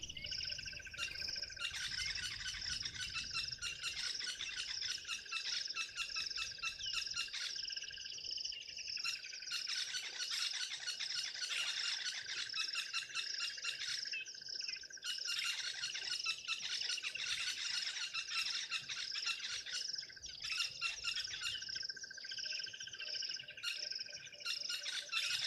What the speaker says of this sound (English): You can hear crested barbets, of course the buffalo weavers.